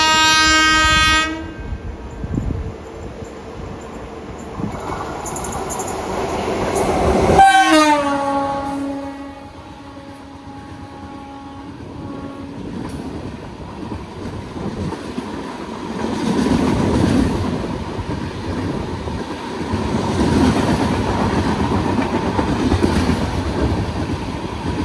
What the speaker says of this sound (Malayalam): ലോക്കോ ഒരു ലാലാഗുഡ WP7 ആയിരുന്നു കേട്ടോ